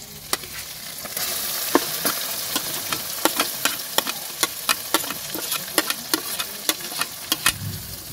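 Spice paste of dried and green chillies, coriander and cumin sizzles steadily in hot oil for a duck curry, with sharp repeated scraping clicks from stirring spaced through the whole stretch, close and moderately loud.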